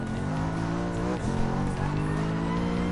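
A Mercedes-Benz race car engine in GT Sport drones steadily throughout at high revs, a loud sustained tone with a brief dip and shift in pitch partway through.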